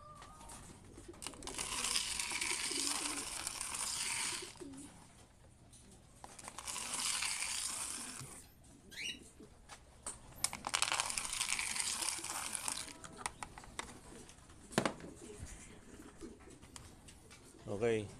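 Young pigeons in a loft coo softly and rustle while waiting to be fed, with scattered bird calls and short scraping bursts over a steady low background.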